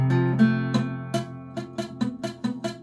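Strummed guitar chords with muted, thudding strings, a series of strums in a steady rhythm, close and fairly soft.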